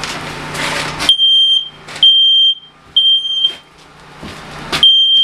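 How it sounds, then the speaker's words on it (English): A smoke detector, set off during a fire investigation demonstration in which steel wool was ignited by a 9-volt battery, sounds loud, shrill repeated beeps in bursts, interleaved with bursts of noisy handling and room sound. "Smoke detector's going off."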